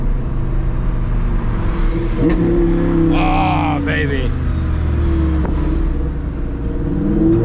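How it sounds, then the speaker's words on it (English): A modified Audi R8 V10 with a loud aftermarket exhaust accelerates hard: a continuous engine roar with sharp shifts and rising revs, close up from the cabin, with a man exclaiming briefly over it. "You cannot beat the sound of a V10."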